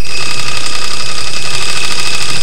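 A small-scale live steam engine with an alcohol-fired pot boiler, running geared down, makes a loud, steady mechanical chugging hum with rapid regular pulses and a sustained high whine, close and without talk.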